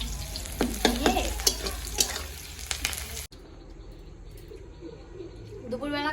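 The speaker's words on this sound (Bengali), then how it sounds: "এখানে একটু তেজপাতা শুকনো লঙ্কা ফোড়ন দিয়ে একটু পেঁয়াজ দিয়ে দিয়েছি" Bay leaf, dried chili and onion spluttering in hot oil: loud, crackling frying with stirring for about three seconds, then an abrupt cut to a quieter room with faint sounds and a bird cooing.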